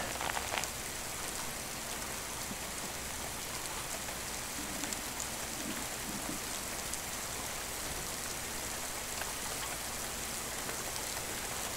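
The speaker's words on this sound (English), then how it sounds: "Starting to rain again." Steady rain falls on a tent during a solo backpacking trip in the Montana wilderness, a dense, even patter of drops that continues without pause and without voices.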